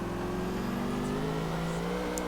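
A car engine in Grand Theft Auto IV drones and revs steadily as the vehicle drives, a loud, continuous in-game motor hum with rising pitch and no speech.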